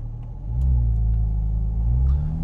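Engine of a Porsche 718 Cayman GT4 RS Weissach with PDK gearbox heard from inside while driving, a deep steady rumble that swells slightly and holds, close and loud with no talk.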